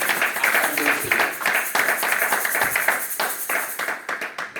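A church congregation claps to acclaim the Lord during a worship service: steady, dense, close clapping that runs throughout and thins slightly near the end.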